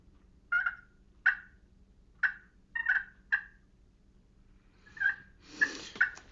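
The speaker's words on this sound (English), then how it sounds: "there's super subtle vocalizations that are coming from that hen as she's moving through the woods." Soft, short wild turkey hen clucks and yelps, about nine spaced irregularly, fairly close and clear against a quiet woodland background.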